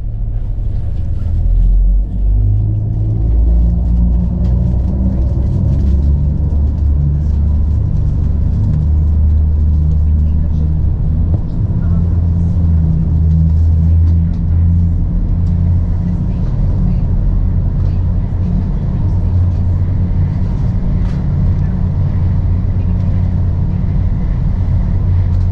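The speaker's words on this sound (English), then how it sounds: "now we can listen to the sound of the catamaran when it's going full speed" A Red Funnel catamaran ferry runs at full speed, its engines a loud, constant low rumble with steady wash noise that stays unbroken throughout.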